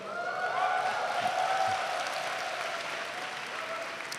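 Steady applause from a church summer retreat audience at a morning assembly, a dense wash of many hands clapping continuously at moderate volume, with a faint tonal hum beneath.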